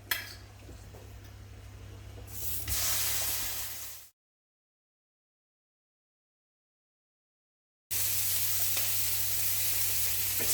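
Steaks sizzle loudly in a pan, a steady close hiss that swells partway through, cuts to silence for several seconds, then returns just as strongly.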